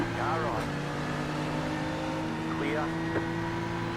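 Race cars in a sim endurance race at Road America pass close by, their steady engine drone swelling with a brief pitch sweep of a car going past, under continuous engine noise.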